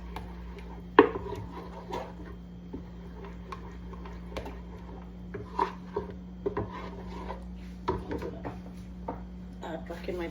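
Thick Cajun sauce being stirred into crab and shrimp mac and cheese made in a Ninja Speedi, heard as irregular scrapes and soft knocks over a steady low appliance hum.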